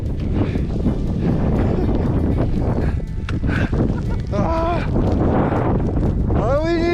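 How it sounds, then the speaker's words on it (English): A strong cold wind roars across a frozen lake during snowshoeing in a blizzard, loud constant buffeting against the microphone, with voices speaking over it. "It's a little cold and windy."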